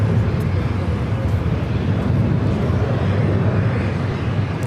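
A KLM airliner bound for Amsterdam takes off from the north side of LAX, producing a loud, continuous low rumbling roar with some wind buffeting on the microphone.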